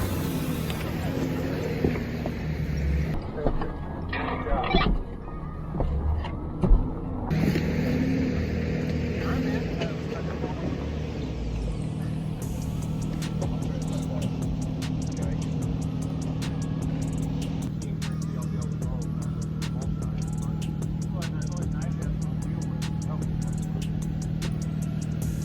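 A Jeep with open differentials climbs a rocky off-road obstacle at Windrock park in Tennessee, its engine droning steadily up close with a few surges of revving, while people talk over it.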